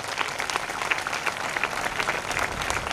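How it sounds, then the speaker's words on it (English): A crowd claps at a university sports day event: dense, steady applause with many overlapping hands, continuous and fairly close throughout. "It was a great round of applause for her."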